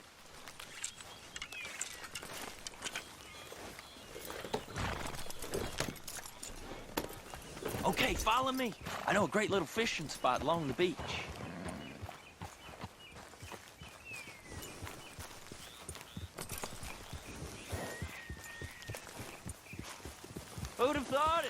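Rhythmic clip-clopping horse hooves trot along steadily in the video game Red Dead Redemption 2 while someone speaks over them, with scattered game sound effects in the background.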